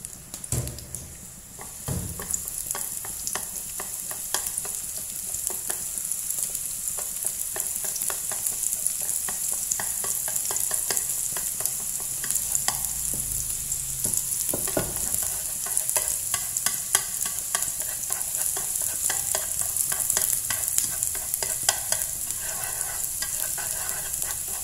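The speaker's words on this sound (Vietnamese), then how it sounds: "Dầu ăn nóng lên, các bạn sẽ cho phần hành vào khi thơm lên." Shallots sizzle in hot cooking oil in a pan on the stove, a steady close-up frying crackle with repeated scraping stirs and occasional clinks of the utensil against the pan.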